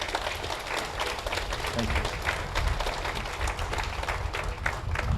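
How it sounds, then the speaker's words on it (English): An audience at a Veterans Day ceremony in Asheville, North Carolina, applauds the families of veterans, with steady, dense crowd clapping throughout and a voice speaking briefly over it. "Can we get a big round of applause for the families?"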